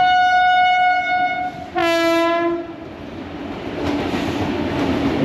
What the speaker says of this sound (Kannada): On the way railway gate ಹಾಕ್ಬಿಟ್ಟಿದ್ದಾರೆ, ಬರ್ತಾಯಿದೆ ಟ್ರೈನ್.